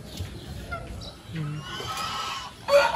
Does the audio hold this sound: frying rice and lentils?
no